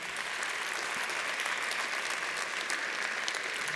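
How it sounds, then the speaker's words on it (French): An audience at a tech conference talk gives sustained applause, a dense, even wash of many hands clapping at moderate distance with no pause across the whole stretch. "Un tonnerre d'applaudissements"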